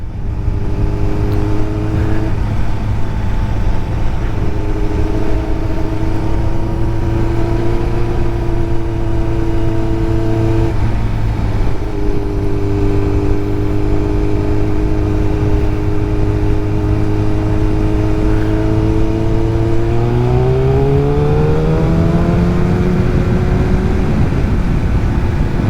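Kawasaki ZX7R motorcycle ridden along a twisty road, its engine droning steadily near and loud through the whole ride, pitch holding through gear changes and rising sharply near the end as the throttle opens.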